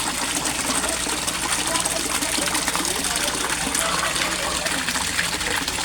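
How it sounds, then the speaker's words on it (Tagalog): An Aquaspeed submersible pump feeds a waterfall pouring into a three-foot-deep koi pond, giving a loud, steady rushing gush of water throughout, with no gaps. "Ang aerator Aquaspeed submersible pump ang waterfalls."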